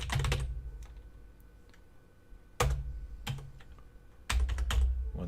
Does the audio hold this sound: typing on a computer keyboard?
yes